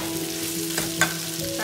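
Tomatoes frying in a pan for mutton biryani, giving a brief, steady sizzle with a couple of soft stirring knocks near the end.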